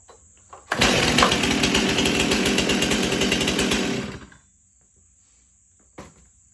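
A Stihl Farm Boss chainsaw runs loud and close at a steady high-revving buzz for about three seconds, then cuts off. A faint click follows in the quiet.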